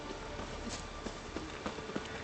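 Horse hooves clip-clopping in The Witcher 3, a quick run of light, evenly spaced thuds over a steady background wash.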